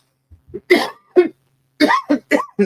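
A person coughs in a series of short, sharp bursts close to the microphone, with brief pauses between the rough coughs.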